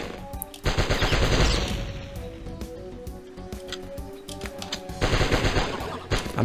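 Shotgun blasts from the Die Hard Trilogy video game, a dense run of loud repeated shots with a game soundtrack underneath, fading slightly in the middle and swelling again near the end.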